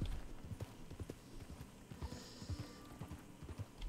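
Horse hooves in Red Dead Redemption 2 clip-clop in a quick, steady rhythm, fairly faint, with a light sound of movement around them.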